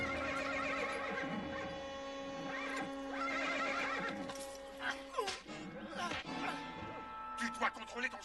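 A horse whinnies in shrill, wavering calls at an outdoor western scene, with some hoof clatter and shouting voices mixed in, fairly close and prominent.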